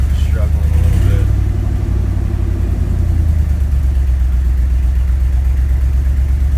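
A Ford F-250 engine idles roughly with a misfire, a loud, low, uneven rumble that dips after a brief rev at the start.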